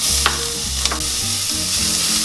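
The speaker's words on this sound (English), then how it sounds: "we want to put the onions and the garlic in the pan to be sauteed" Onions and garlic sauté in a pan on the stove for spaghetti sauce, giving a steady close sizzle and crackle with a couple of brief stirring clatters and no talking.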